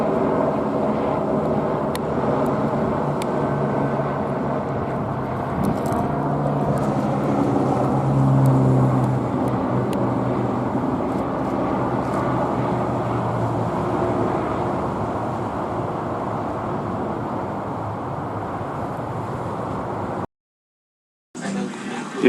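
A propeller airplane passes directly overhead, its engine throttled back, a steady broad drone holding loud and close for about twenty seconds before cutting off abruptly near the end.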